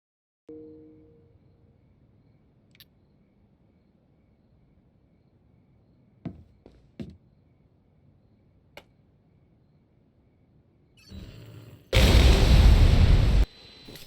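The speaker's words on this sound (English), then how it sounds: "The last group can be destroyed with an electroshock device or any other explosive device." Explosion in the video game Watch Dogs 2, a loud sustained roaring blast lasting over a second, preceded by a rising rumble, after a long quiet stretch with only a few faint clicks and taps.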